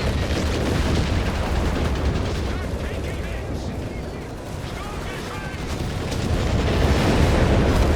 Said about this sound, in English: Another base barrage out of RedxWings.